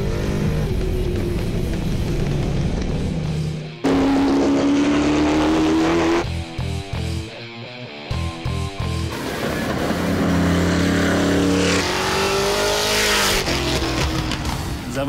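Chevelle NASCAR race car on a track, its engine roaring loud and close throughout, with rising revs, gear changes and a brief dip around the middle before it surges again.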